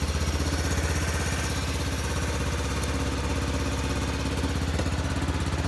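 Kawasaki Bayou 300 ATV engine idling steadily after a cold start with a little choke, a close, loud and continuous mid-pitched putter that holds even throughout.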